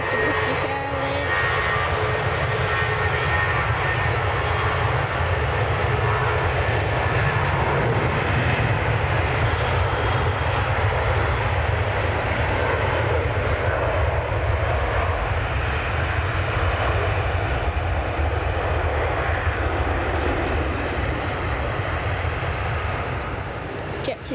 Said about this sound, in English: There goes the British Airways.